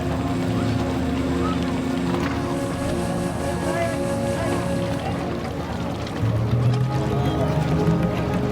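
A boat out on the Padma River near Mawa ghat, rocked by rough waves: a steady engine drone and broad wash of water and wind runs throughout, swelling louder in the last couple of seconds.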